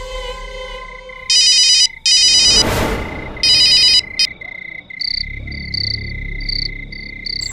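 An electronic phone ringtone sounds in several loud close bursts on a call line, broken by a whooshing swell. A softer repeating electronic tone follows at the end.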